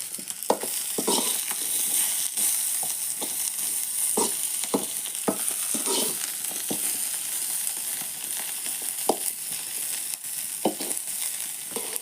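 Onion pieces fry in a pan with a steady close sizzle, broken by frequent sharp spits and pops of hot oil and occasional stirring scrapes, with no one talking.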